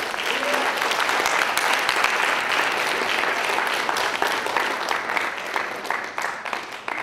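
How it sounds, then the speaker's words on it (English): Audience applause at a student voice forum, a steady dense wash of clapping from a crowd that holds for several seconds and tapers slightly at the end, with faint voices mixed in. "Let's give them a round of applause."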